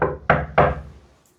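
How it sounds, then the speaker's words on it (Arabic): Three firm knocks land on a door in a home, the first softer and the next two louder and closely spaced, each followed by a short ringing decay before quiet. "أسماء افتحي الباب يا حبيبتي."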